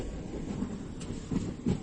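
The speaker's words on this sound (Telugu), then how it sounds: "సో మన ట్రైన్ వచ్చేసి కాజిపేట స్టేషన్ కి అయితే రీచ్ అవుతుంది." The Kazipet Express pulls into Kazipet station beside a Rajdhani Express, giving a steady low rumble of rolling carriages with a few heavier thumps from the wheels. It sounds fairly distant and even, with no voices.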